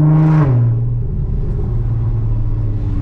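A car with a loud aftermarket-sounding exhaust revs hard, a deep booming rumble that climbs and then drops back to a heavy, droning idle close to the listener, with no talking.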